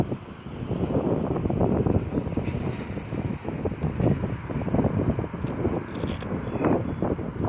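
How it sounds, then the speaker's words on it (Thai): Strong gusting wind buffeting the microphone at an outdoor RC plane flying field, a steady loud rumbling roar with fluctuating gusts throughout and no voices. "ลมแรงนะครับ"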